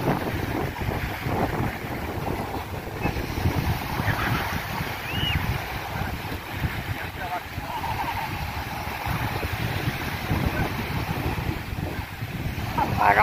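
Rough surf and strong wind at Stanley Main Beach in Hong Kong, red flag up for dangerous sea: a steady, loud roar of waves with heavy wind buffeting the microphone throughout, and voices faintly underneath.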